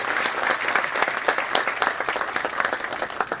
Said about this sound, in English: can we please give one more applause and applause?